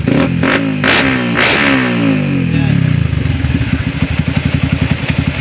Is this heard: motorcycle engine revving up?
yes